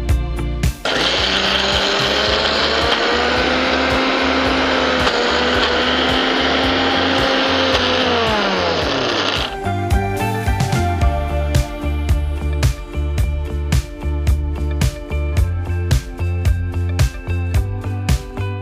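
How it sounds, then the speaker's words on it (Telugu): Mixer grinder whirring loudly as it grinds soaked mixed dals and jowar into idli batter, a strained motor hum with rattling that cuts off partway, followed by clattering and scraping, no voices. "మనం ఇడ్లీ ఎలాగైతే పిండి మిక్స్ పెట్టుకుంటామో మిక్సీ చేసుకుంటామో సో అలాగే మనం ఇడ్లీ పిండిలాగే చేసుకుంటే సరిపోతుంది"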